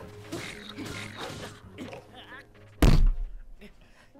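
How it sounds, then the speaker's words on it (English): A bomb kicked in Zelda: Breath of the Wild lands as one sharp, loud thump partway through, ringing briefly after voices talk and game sounds play beforehand. "He kicked the bomb at me!"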